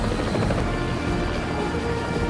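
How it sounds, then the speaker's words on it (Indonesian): A helicopter flies close overhead with a dense, continuous rotor and engine roar at a steady level throughout. "Mas Rani mau tunjukkan kemampuannya dalam nerbangin helikopter tanpa izin"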